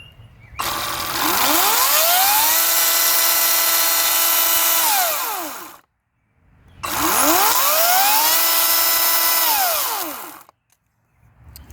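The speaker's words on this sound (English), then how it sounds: "Now I'm going to turn on the chainsaw and show you" An Ego 18-inch battery chainsaw runs in two sustained bursts of several seconds each, loud and close, its whine sweeping up as it spins up and down as it winds down, with a short silence between the bursts.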